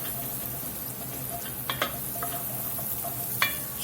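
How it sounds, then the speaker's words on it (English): Onions cooking in bacon fat in a pot for chicken tortilla soup give a steady low sizzle throughout, broken by a few brief spoon stirs and clinks, with no talking. "those onions been cooking there in that bacon for just 2 or 3 minutes"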